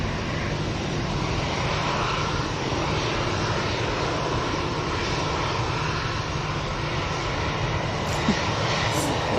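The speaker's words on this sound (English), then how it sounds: "the Virgin Atlantic A330 from JFK is just turning on to finals" A Virgin Atlantic Airbus A330 from JFK on final approach into Manchester makes a continuous, fairly loud engine rumble that stays level and unbroken from start to end.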